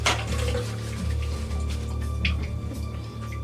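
Tap water runs steadily while something is rinsed at a kitchen sink during French toast preparation, a continuous close splashing wash over a low hum with no talking.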